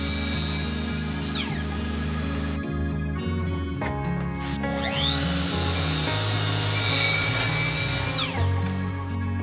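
Japanese handsaw cutting wooden stair risers for three-step winder stairs, with steady rasping strokes and tonal ringing close up, alone without talk.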